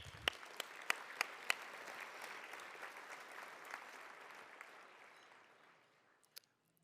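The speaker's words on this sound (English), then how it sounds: "please join me in a round of applause for Rebecca" A room of luncheon guests at an annual awards event gives a round of applause for reviewers: steady, dense clapping with a few sharp, close claps at the start, fading away over about five seconds, then a couple of stray claps.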